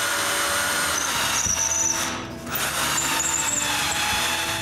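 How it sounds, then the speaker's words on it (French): Power drill driving wooden rods into the legs of a handmade wooden tripod, a steady whining motor with a high squeal, briefly easing off midway before resuming, close and continuous with no talking. "J'utilise une perceuse pour mettre les tiges en place."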